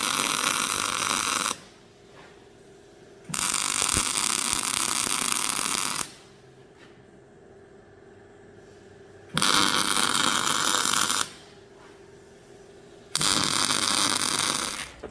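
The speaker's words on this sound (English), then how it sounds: "Probably film a little bit of welding" Welding on rustic-style foot pegs for a custom Suzuki GSX forward-controls build: four loud, steady bursts of crackling arc hiss, each a few seconds long, separated by quieter pauses, up close and without talking.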